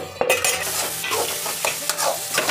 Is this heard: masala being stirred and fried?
yes